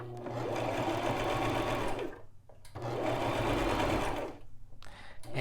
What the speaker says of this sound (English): I'm gonna drop the foot. I'm gonna start sewing.